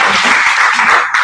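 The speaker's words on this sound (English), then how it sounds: "Let's give her a round of applause." A conference audience claps in a steady, dense burst of applause, close and loud, with no pauses.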